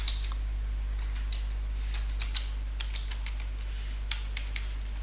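Computer keyboard keys are typed in quick, irregular bursts of close clicks during Windows Server command-line work, over a steady low electrical hum.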